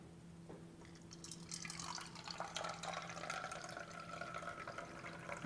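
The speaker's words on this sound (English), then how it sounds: "As we pour this out" Water poured out of a container after a chlorine-color test demonstration, a steady splashing, trickling pour that runs continuously at close range with a faint hum underneath.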